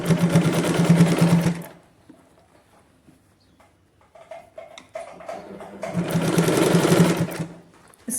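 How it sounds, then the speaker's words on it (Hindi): A sewing machine stitches a puff sleeve onto a blouse in two loud, close bursts of rapid mechanical whirring, separated by a quiet pause with faint handling clicks. "और फिर इसके बाद ऊपर सिलाई लगानी है।"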